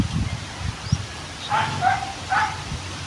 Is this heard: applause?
no